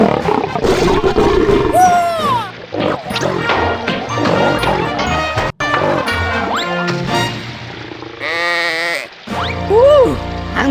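A lamb bleating in a children's PC video game, several wavering bleats mixed with loud crashes, roaring and game music.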